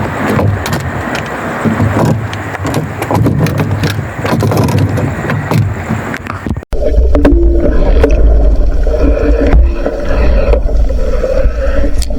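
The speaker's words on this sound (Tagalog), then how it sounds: "Malakas talaga yung hangin." Strong wind at sea, heard from a boat, makes a loud, continuous roaring rumble that buffets the microphone, dropping out briefly before it returns even heavier.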